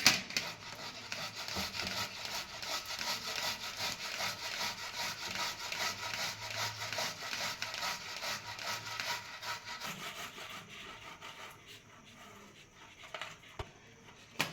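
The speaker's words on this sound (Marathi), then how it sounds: "बारीक खिसून घ्यायचं" Boiled potato being grated for potato paratha, a steady close rasping scrape repeating in quick strokes that eases off near the end, heard alone with no talk.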